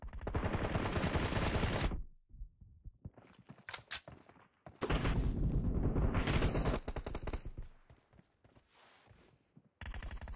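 Gunfire in the mobile battle game PUBG Mobile, heavy loud automatic bursts with gaps of single shots, dense at the start, in the middle, and again at the end.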